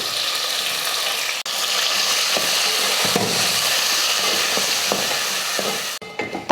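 Onions, curry leaves and tomatoes sauté in a pan for sambar, a steady close sizzle with stirring scrapes throughout, easing off briefly near the end.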